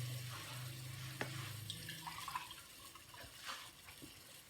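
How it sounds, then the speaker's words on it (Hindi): Water is poured into a pot of frying aloo gosht, a meat and potato curry, making a low, steady gush for about two seconds against kitchen sizzle, then softer bubbling and clinks. "तो इसके अंदर पानी डाल लेते हैं।"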